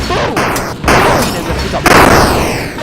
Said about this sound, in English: this one shoots rockets, which explode on contact